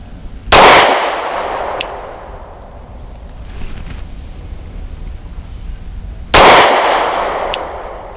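A Kimber R7 Mako pistol firing New Republic ammunition outdoors lets off two loud, sharp shots several seconds apart, each followed by a long fading echo, with faint clinks in the quiet between.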